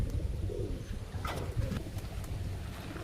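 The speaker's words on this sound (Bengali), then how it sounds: "বেলে সবুজ দুটো পায়রা দেখুন কেমন।" Pigeons coo softly in a loft, low and muffled, with a brief rustle of wings partway through. The sound stays quiet throughout.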